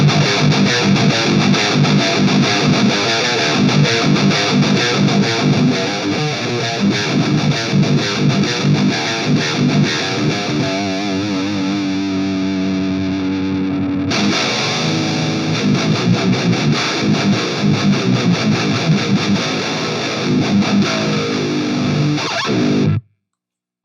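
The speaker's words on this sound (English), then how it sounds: "I'm going to give you a baseline distortion tone" A heavily distorted electric guitar plays loud, sustained chords and riffs continuously through an amplifier with gain near one o'clock, with a brief shift in tone midway before stopping abruptly.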